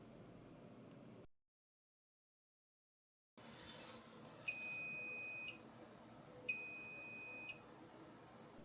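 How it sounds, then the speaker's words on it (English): After faint background hiss and a brief silence, two clear electronic beeps from an Anycubic Kobra S1 3D printer sound about two seconds apart, each lasting roughly a second. "you will hear a beep"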